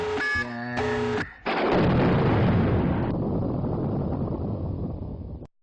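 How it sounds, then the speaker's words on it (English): A tactical nuke explosion from a video game starts with a short electronic warning tone, then a massive booming blast that rumbles and decays for several seconds before cutting off abruptly. "Tactical nuke incoming!"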